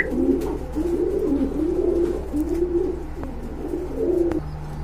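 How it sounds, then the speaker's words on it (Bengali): A pair of red Rajgolla pigeons at a Bangladeshi pigeon market coos close by in a steady run of low, rolling calls, one after another, with faint background hum. "এইখানে দেখতে পাচ্ছেন এক জোড়া রাজগোল্লা কবুতর, রেড কালারের ভিতরে"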